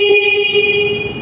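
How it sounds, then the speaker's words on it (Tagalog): A Linhai Pro-Max 320 4x4 ATV horn gives one loud, steady, bright toot that sustains the whole time, close and alone. "Tapos ang kanyang horn o busina."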